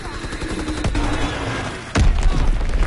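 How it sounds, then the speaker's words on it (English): A Fritz X guided bomb drops and detonates in a combat video game, a burst of gunfire-like crackle leading into a sudden heavy, loud blast that rumbles on to the end. "Dropping Fritz X bomb."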